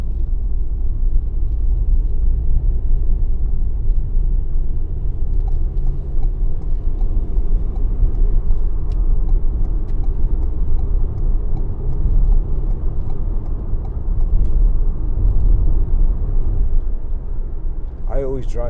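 A 2018 Ford Transit Custom 2.0 EcoBlue diesel van driving, with steady engine drone and road rumble heard from inside the cab.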